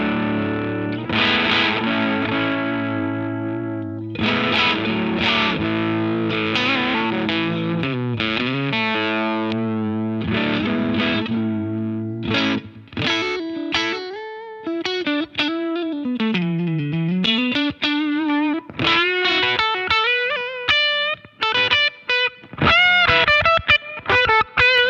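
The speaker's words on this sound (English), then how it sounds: "I have a Univibe set up in a vibrato mode that is becoming a favourite sound of mine." Electric guitar through a Univibe pedal in vibrato mode, with a throbbing, wavering pitch, first sustained chords, then a busier melodic line that wobbles and pulses throughout.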